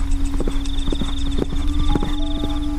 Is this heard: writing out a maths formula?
no